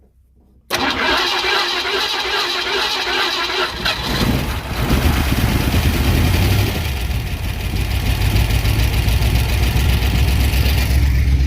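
Engine of a long-abandoned Ford Mustang, Eleanor-style project car, cranks and catches after a second of quiet, then runs loud and rough near the listener, rising in revs partway through and holding a steady uneven roar.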